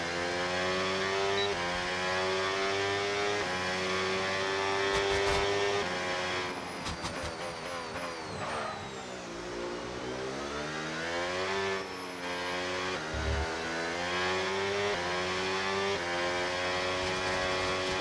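An F1 car with an Audi power unit in the F1 26 video game, engine howling steadily at high revs with rising and falling pitch through gear changes and cornering, continuous and close.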